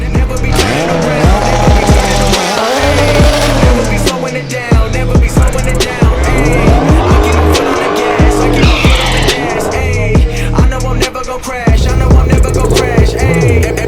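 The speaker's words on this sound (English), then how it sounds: "I decided to do the same with the Dodge Demon, but use the trans brake, which gives me my torque reserve." A Dodge Demon launching off the trans brake in a street race against a modified Honda Civic, a loud roaring engine with rising and falling revs and tire noise, mixed with music throughout.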